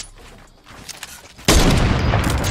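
Gunfire in the video game Fortnite: a few faint pops, then a sudden loud, sustained burst of close shooting that fills the last second.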